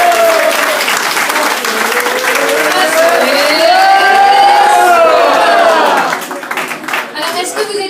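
A crowd claps and cheers loudly for an entertainment team at an outdoor flash mob event, with dense, sustained applause. A voice and tonal sounds ring out above it before the clapping thins toward the end.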